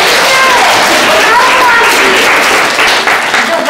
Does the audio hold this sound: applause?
yes